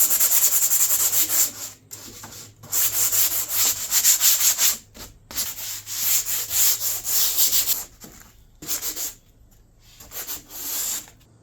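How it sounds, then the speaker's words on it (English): Painted brass hinges are sanded by hand in close, steady scratchy strokes, coming in rhythmic bursts separated by short pauses, with no voices. "I'm just going to sand this down"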